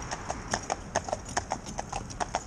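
Hooves of a commercial pair of Friesian horses clip-clop in training, a quick, even rhythm of sharp, close strikes repeating steadily without pause.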